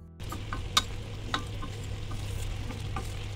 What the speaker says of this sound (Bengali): আবারও একটু নেড়ে চেড়ে দেব।